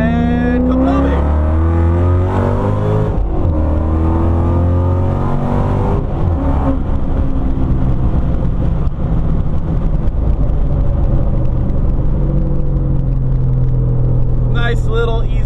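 A supercharged Ford Mustang roars through a full-throttle pull, its engine note loud and close, rising and shifting continuously, with a person talking over it.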